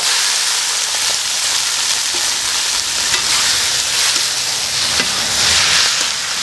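Vegetables and chilies stir-fried in a wok, a loud, close, continuous sizzle broken by scraping and tossing of the spatula, with no one speaking.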